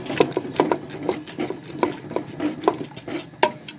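Spinach and moong dal saag mashed in a pot with green chillies, a steady run of close metallic scrapes and knocks as a masher or spoon works the mixture against the pot.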